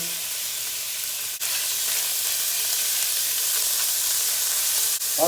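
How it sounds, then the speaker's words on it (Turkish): Meat hits hot oil in a pot for a chickpea and meat stew, giving a loud, steady, broadband sizzle that holds for several seconds, broken only by a couple of brief clicks. "Hemen eti döküyoruz içine."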